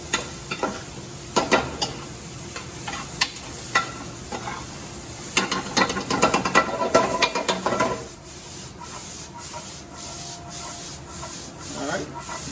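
Food tossed and stirred in a pan over high heat makes repeated scraping and rattling bursts over a continuous sizzle, busy at first and then settling into a steadier frying hiss.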